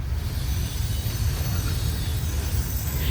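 A Seaboard heritage-unit locomotive hauling a freight train slows toward a stop, giving a steady, loud low-frequency rumble of rolling wagons with faint wheel squeal, close by and without talk.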